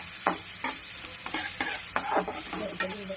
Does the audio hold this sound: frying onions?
yes